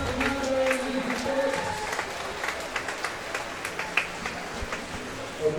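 An audience at a bouldering championship final claps and cheers for a climber's last attempt, a sustained wash of applause with scattered sharper claps, steady and moderately loud throughout.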